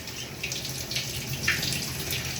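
A shower running in a bathroom, water falling in a steady, close hiss with small splashing variations and no talking.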